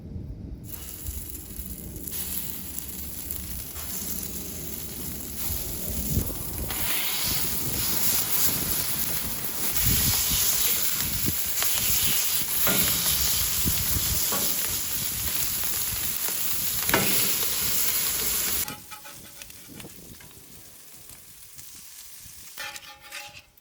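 Breakfast smashburgers frying on a flat griddle, a steady loud sizzle and crackle with occasional scraping that drops off sharply near the end.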